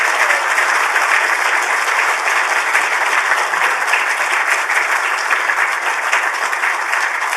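An audience gives sustained, loud applause to welcome a lecturer to her inaugural lecture, dense, steady clapping that fills the room throughout with no voices over it.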